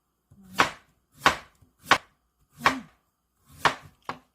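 A knife slices through half a carrot on a cutting board, six crisp separate cuts spaced roughly half a second apart, close and clear with no talk.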